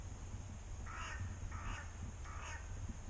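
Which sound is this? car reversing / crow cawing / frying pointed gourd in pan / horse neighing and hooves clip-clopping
crow cawing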